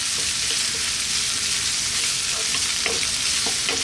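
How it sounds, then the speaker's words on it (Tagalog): Ginger and garlic sautéing and being stirred in a pan for a Filipino stir-fried pechay dish, a steady close sizzle with occasional scraping stirs throughout, no talking. "Ngayon naman ang ating luya. So, gisayin natin sandali."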